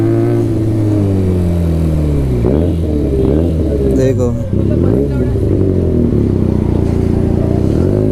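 A Benelli TNT300 motorcycle fitted with an Ixil full-system exhaust revs loudly and steadily nearby, its engine note rising and falling throughout, while someone talks over it.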